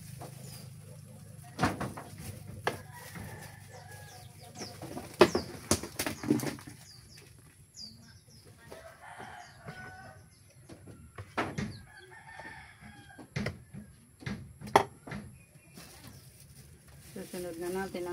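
Bursts of a chicken flapping its wings overhead and scattered fowl clucks and crowing in the background, with occasional scuffles and muffled talk nearby.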